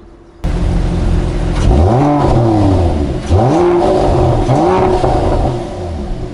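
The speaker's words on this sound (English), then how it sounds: "this particular model is outfitted with the sport exhaust system, and I'll give you that sound in a brief second" A Mercedes-Benz GLE coupe with a quad-pipe sport exhaust revs three times in a row, each blip rising and falling sharply over a steady idle, loud and close with no talking.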